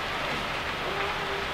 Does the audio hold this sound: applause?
no